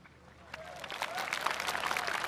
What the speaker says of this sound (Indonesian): Ini kenapa jadi tepuk tangan, Bang?